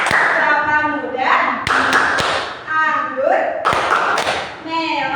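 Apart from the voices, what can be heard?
hand clapping in a fruit clap song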